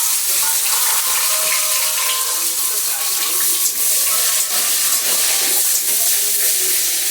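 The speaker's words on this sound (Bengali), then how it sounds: "এই জন্য আমি পেঁয়াজ কুচিটা দিয়ে দিচ্ছি।" Chopped onion hits hot oil in a pan and frying for a soybean and Gobindobhog rice dish, giving a loud, steady sizzle and hiss that runs unbroken close to the pan.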